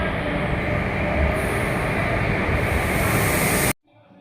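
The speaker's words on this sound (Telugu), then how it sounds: "ఇదేమో నేను వెళ్ళాల్సిన ట్రైన్" A train pulling into a railway station, a loud, close, steady rumble and rush of wheels and carriages that cuts off abruptly near the end.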